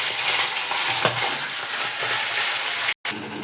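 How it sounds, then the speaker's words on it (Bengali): Rohu fish head frying in hot oil in a home kitchen, a steady broadband sizzle close by with a few soft stirring knocks, continuous and loud throughout, ending with a brief cutoff near the end; no talking. "মাখিয়ে মাথাটাকে ভেজে নিব আগে।"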